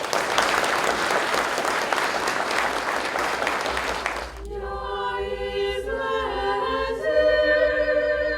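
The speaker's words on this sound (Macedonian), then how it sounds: "Аплауз." An audience applauds after a young women's choir performance, dense clapping for about four seconds before it gives way to sustained tonal music.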